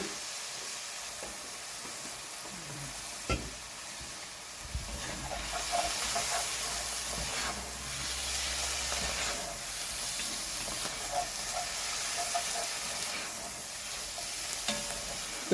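Vegetables gently sweating in a pan for BBQ beans make a soft, steady sizzle with scraping stirs and occasional knocks of the utensil against the pan.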